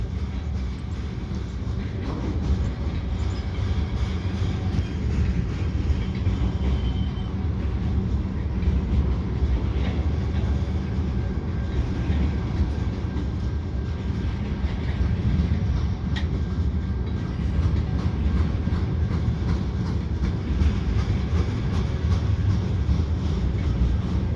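A heavy CN mixed freight train with an old GP9RM locomotive rumbles past at close range over a Lachine Canal bridge, a continuous low roar with faint rhythmic clatter running throughout, steady and loud.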